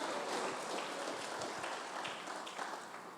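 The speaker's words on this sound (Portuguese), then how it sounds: "As palmas para o Senhor." A church congregation claps for the Lord, a faint, distant wash of steady applause that slowly fades toward the end.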